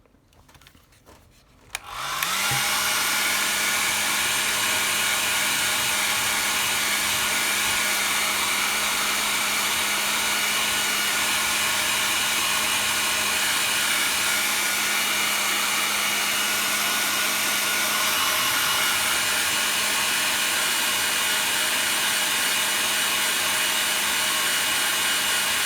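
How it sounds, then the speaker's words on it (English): A hair dryer switches on after a brief quiet handling moment and then blows steadily and loudly for a long stretch, drying a wet watercolour painting with an unbroken whooshing motor drone and no talking. "so now we're going to dry this off."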